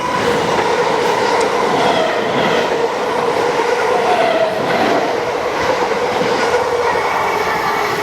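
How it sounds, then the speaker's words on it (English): A South Western Railway train rumbles past close by with a steady loud roar, wheels clattering and faint squeals over the tracks, and no voices. "There's some train behind me."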